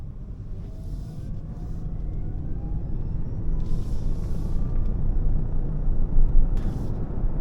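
Toyota Prius PHEV plug-in hybrid with a 163 hp electric motor driving on the road, a steady low rumble of road and tyre noise that swells slightly, with brief hiss-like bursts from passing traffic or wind.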